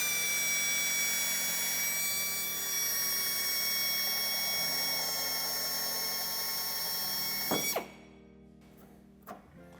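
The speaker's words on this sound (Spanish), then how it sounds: "hacemos un orificio y haciendo presión sobre el taladro cortaremos este trozo" Electric drill boring a hole and then side-cutting a section of plastic trim while fitting a towbar on a 2019 Volvo S60; steady loud whine runs for about eight seconds, then stops abruptly, followed by a couple of brief knocks.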